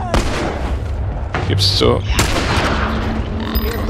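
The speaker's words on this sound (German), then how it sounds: "Oh, jetzt habe ich daneben geschossen." Loud gunshots and booming blasts from The Last of Us burst out in a close, chaotic cluster of sharp cracks over a dense combat din, with a voice speaking briefly.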